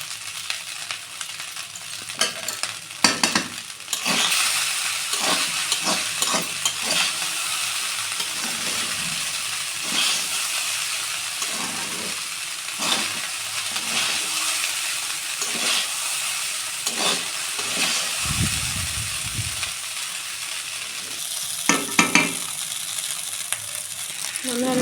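Jeera rice fries in a hot pan after salt is added, a continuous close sizzle lasting throughout with repeated scraping and stirring strokes and occasional utensil knocks.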